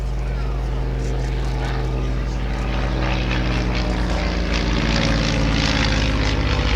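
Ryan Navion light four-to-five seat aircraft at an air show, its propeller engine droning loudly and steadily, with a commentator talking over the sound.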